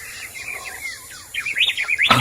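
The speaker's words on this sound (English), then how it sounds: "Oh, that bird is loud." A loud tropical bird calls in a radio drama set in the Amazon, trilling and swooping in rising and falling phrases that grow louder toward the end, with no talking.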